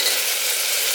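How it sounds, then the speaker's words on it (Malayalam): Potato and kohlrabi pieces are stirred in a hot pan, giving a brief, close hiss of sizzling and scraping with no voices. "ഒരു ഇളക്ക് കൊടുക്കുക."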